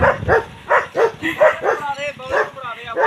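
Dogs bark in a quick series of sharp, excited yips close by, about a dozen barks in rapid succession.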